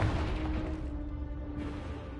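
A Confringo blasting spell detonates in a video game: a deep, rumbling boom that swells at once and rolls on for about two seconds, heavy in the low end.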